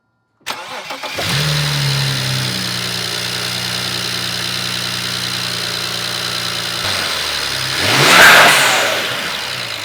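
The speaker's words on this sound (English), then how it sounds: "next thing you want to do is just start the car, make sure everything flows, make sure there's no misfires" A BMW with the N54 engine and freshly changed spark plugs cranks and fires up, then settles into a loud, steady close-up idle with a brief rev swell near the end.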